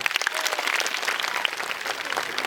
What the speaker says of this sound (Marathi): पटतंय का तुम्हाला टाळ्या वाजवून सांगा